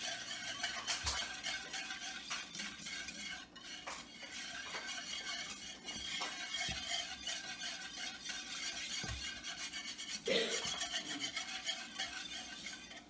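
Spoon stirring keto teriyaki barbecue sauce ingredients in a bowl or pot, a run of scraping and clinking strokes with occasional sharper taps against the container, close and moderately quiet, no talking.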